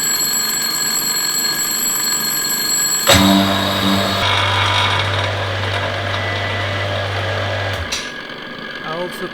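An alarm clock's loud bell rings steadily for several seconds over a mechanical hum, then cuts off abruptly.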